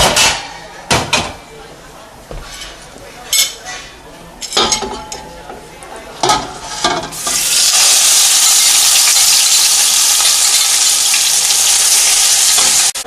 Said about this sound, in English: While the onion is getting fried